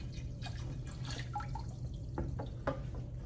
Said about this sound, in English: go ahead and slowly pour the developer back in